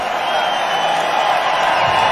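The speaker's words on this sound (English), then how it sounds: "And listen to the crowd." A steady, loud crowd roar rises at the dramatic finish of a Pinty's Series road course race in Montreal, a continuous wash of cheering with no clear breaks.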